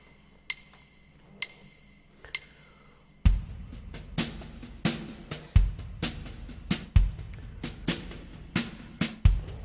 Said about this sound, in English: your play along is a 32 bar drum track